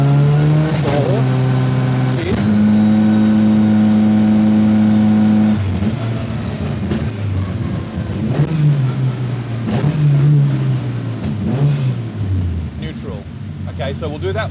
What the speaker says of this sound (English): I'm going to rev it in between gears to flip it up, there we go, alright, we'll go back up through the gears